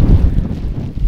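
Wind gusts roar across a high Carpathian mountain ridge near Pietrosul Rodnei peak, a close, steady low rumble buffeting the microphone without a break.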